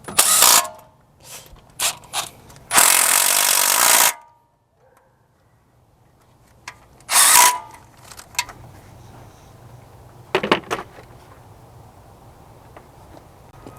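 A ratchet wrench retorquing engine bolts to 14 foot-pounds on a 1998 International T444E diesel, with bursts of close, loud mechanical clicking separated by quiet pauses and a few sharper metallic taps.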